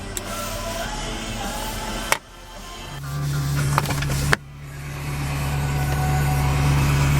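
A 2002 Ferrari 360 Spider engine idles steadily with a low, even hum that rises slowly. A few sharp knocks or clunks break in on top of it, and no one talks.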